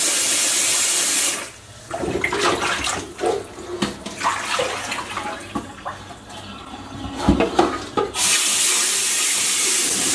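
Tap water pours into a sink while beef brisket and tendon are washed: a loud steady gush that drops away, then gives uneven splashes and sloshing as the meat is handled before the full flow returns.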